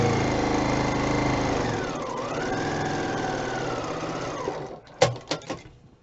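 Sewing machine running steadily while chain piecing quilt block pieces, the motor whirring close with a pitch dip partway through, then stopping and followed by a few sharp clicks and thumps.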